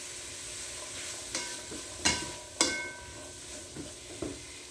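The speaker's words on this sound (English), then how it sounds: "I'm putting all these onions in with the bacon. And that's going to brown up." Onions sizzle with bacon in a frying pan, a steady soft crackle punctuated by several sharp clanks and scrapes of a utensil stirring, no talking.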